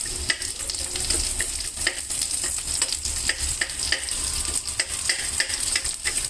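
Garlic cloves frying in a pan with oil, a steady close sizzle with repeated scraping stirs of a spoon, no talking.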